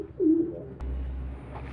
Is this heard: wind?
no